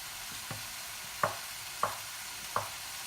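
Small cubes being mixed in a frying pan, a soft ongoing sizzle broken by four sharp spatula knocks against the pan at a slow, uneven pace.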